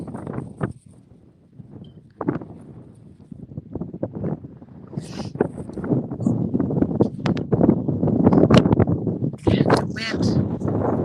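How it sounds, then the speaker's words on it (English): Outdoor wind buffets the microphone in loud, rumbling gusts that grow stronger over time, with a person talking throughout. "It's a little windy here today."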